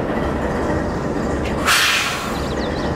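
Freight train rolling steadily while being ridden by a trainhopper, with a loud continuous rumble and rattle close by and a brief sharp metallic hiss or screech partway through.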